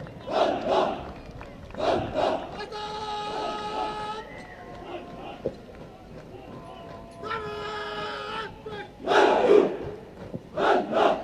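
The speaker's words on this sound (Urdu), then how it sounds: "اللہ اللہ کے فلک شگاف نعرے لگاتے ہوئے سلامی کے لیے سلامی کے چبوترے کی طرف بڑھ رہی ہے" A marching contingent of Punjab Police Elite Force recruits chants loud rhythmic slogans in bursts as it advances toward the saluting dais at a passing-out parade, with band music and a crowd filling the gaps between chants.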